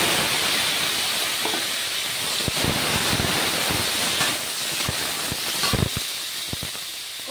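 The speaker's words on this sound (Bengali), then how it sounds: "ভাজা হয়ে গেলে এই যে সবজিগুলো ঢেলে দেবো" Vegetables and green peas hit hot oil with ginger in a pan, giving a loud, continuous hiss of sizzling frying with occasional sharp crackles and pops.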